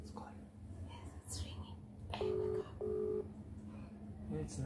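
An outgoing phone call rings back, with two long steady tones sounding over background murmur and soft whispering voices.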